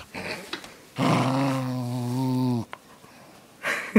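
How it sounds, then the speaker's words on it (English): A dog grips a shirt in a tug game and gives a steady, throaty growl lasting over a second, close and loud, with short snorts and huffs around it. "She got a good grip, though. I mean, she doesn't let shit go."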